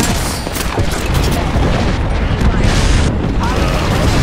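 Dense, continuous gunfire and booming blasts from a first-person shooter game on the Caldera map fill the scene loudly, with in-game voice callouts heard over the shooting.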